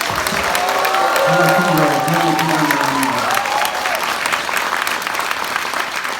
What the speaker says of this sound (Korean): 여러분 우리 구청장님을 큰 박수로 맞아주시기 바랍니다.